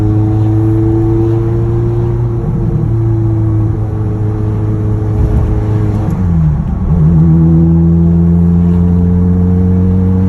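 A Ferrari 430 engine hums steadily while driving, a loud, close, sustained drone with a gear change around the middle, where the pitch briefly dips and then settles into a new steady tone.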